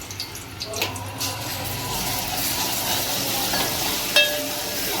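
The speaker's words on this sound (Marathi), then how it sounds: "दोन चमच तेल टाकला आता आपण याच्यात अद्रक लसूण वाटलं ना तो टाकायचा" Ginger garlic paste frying in two spoons of hot oil for an Agri seafood recipe, giving a steady close sizzle and crackle with faint stirring clinks throughout.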